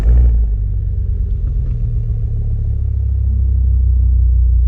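An Audi RS6 V10 sedan engine: after a short burst at the start, a loud, deep, steady rumble holds for several seconds, close to the car, with no voices.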